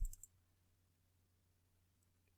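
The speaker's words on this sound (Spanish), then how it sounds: "Si usted quiere, le hace un clic ahí. Dos clics seguidos o uno." A computer mouse clicks two or three times in quick succession at the very start, close and crisp, then only a faint low hum remains.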